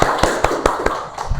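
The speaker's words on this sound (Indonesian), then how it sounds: "Tepuk tangan untuk Mbak Grace." A small classroom audience claps for a student in a scattered, loose rhythm of separate hand claps, close and moderately loud, with no talk over it.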